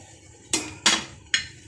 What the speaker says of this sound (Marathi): आता याच्यावर आपल्याला झाकण ठेवून द्यायचं